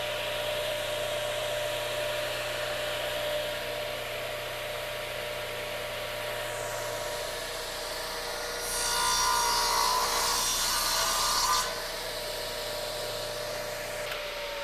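A radial arm saw cuts a kerf in wood using a reversible jig with no fence on one side, a steady whirring hum underneath and a louder, brighter burst of cutting lasting a few seconds near the middle.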